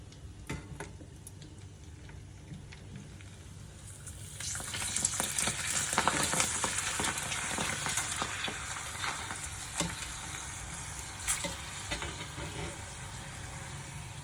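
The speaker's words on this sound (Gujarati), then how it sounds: "એક પછી એક આપણે તળી લઈશું બધા ભૂંગળા।" Crispy bhungla fryums deep-frying in oil one after another for a bhungda bataka recipe, a quiet low bubbling that swells into a steady, louder crackling sizzle partway through.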